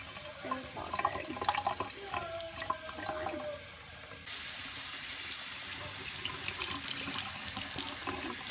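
Cold water running from a kitchen tap into a sink, a steady close splashing stream that changes to a brighter, fuller rush partway through, with no talking.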